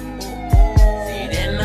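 Siren sound effect mixed into a slowed reggaeton-style song, a wailing tone rising over steady music with heavy bass thumps, prominent and continuous through the short stretch with no one talking.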